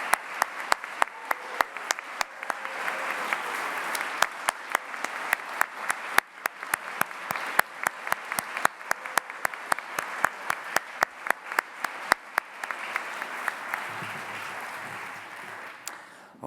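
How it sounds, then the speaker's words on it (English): Applause for volunteers at a community awards ceremony, heard as a dense wash of clapping punctuated by sharp, close individual claps that keep a rough rhythm throughout. "Big round of applause."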